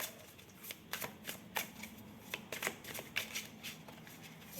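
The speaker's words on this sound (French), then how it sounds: "Je vais prendre une carte." Oracle cards being shuffled and drawn by hand: a run of crisp, close riffling flicks and slaps at an uneven rhythm, alone in a quiet room.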